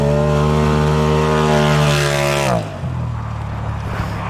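A tuned Polaris RZR Pro EVO on a studded ice track: its engine holds a loud, steady high-RPM drone with strong harmonics, then drops abruptly into a lower, rougher rumble as it pulls away, with no talk over it.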